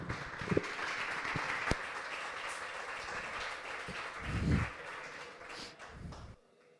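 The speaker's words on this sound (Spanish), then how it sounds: "un fuerte aplauso para Manu y empezamos con el debate." An audience applauds before a debate on colonizing Mars. Steady broadband clapping fills about six seconds at moderate level with a few sharper claps standing out, then stops abruptly.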